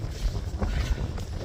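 Strong wind buffets the microphone outdoors during a long walk, making a loud, continuous low roar with gusty surges and no speech.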